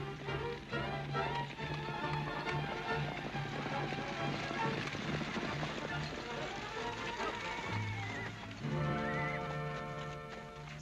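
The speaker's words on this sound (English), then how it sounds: "Sounded like a lot more horses to me than just one team." Busy scene with rhythmic hoofbeats from several horses running, mixed with shouting voices and music-like tones, fairly loud and continuous.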